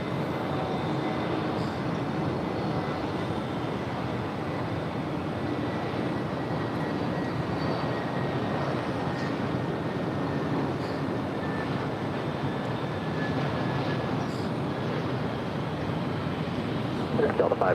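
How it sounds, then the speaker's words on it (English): An American Airlines jet coming in to land at LAX, heard as a continuous broad engine roar that holds steady and loud throughout, with airport ambience and faint radio chatter beneath it. "That is American Airlines Flight 336 coming in from Fort Lauderdale."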